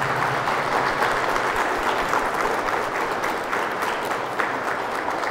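Wedding guests give the newlyweds a long, dense round of applause that stays loud and sustained, with many hands clapping together and only faint crowd murmur underneath.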